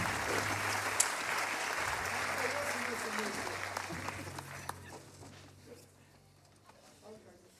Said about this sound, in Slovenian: en aplavz za orkester